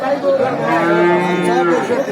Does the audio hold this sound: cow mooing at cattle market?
yes